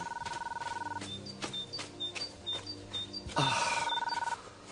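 A telephone rings indoors in a French TV drama scene, repeated electronic ring bursts followed by a louder, sharper ring near the end, with faint background sounds and no speech.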